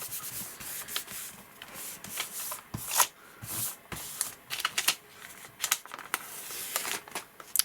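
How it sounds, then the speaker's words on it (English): Layout paper being peeled off an acrylic-painted Gelli printing plate, giving soft, close rubbing and crackling rustles in irregular bursts, quiet and without speech. "let's just pull this as a solid colour onto the layout paper, see how well this behaves on the Gelli plate"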